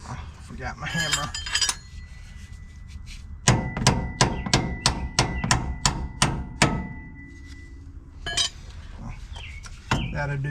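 Hammer blows on a Ford F250 ball joint during a front suspension repair ring out as about ten sharp, evenly spaced metallic strikes, loud and close, with bursts of clanking tool noise before and after.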